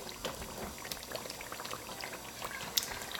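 Thick Ghanaian shito black chili sauce cooking in a covered pot over medium heat, giving a steady bubbling and popping sizzle with scattered crackles and one sharper pop, close and moderately loud.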